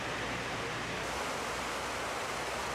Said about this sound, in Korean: 대재앙의 현장에는 인공 폭포를 만들었다